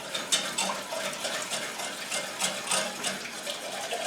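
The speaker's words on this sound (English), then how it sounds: "you just want to stir as you're pouring your milk" Milk pours into a roux for béchamel while a utensil stirs it in a pan, giving a steady liquid gush with soft scraping and ticking textures throughout, no talking.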